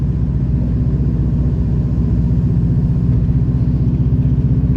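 A Subaru Impreza WRX engine rumbles at a loud, steady idle with the low, pulsing beat of a flat-four, heard close up with no voices.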